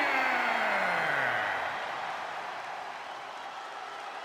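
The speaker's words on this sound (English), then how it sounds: "This crowd is going wild" Video game wrestling crowd in WWE 2K25 roaring and cheering in an arena, a loud steady wall of noise that eases slightly after the first second and a half, with a low tone sliding downward beneath it.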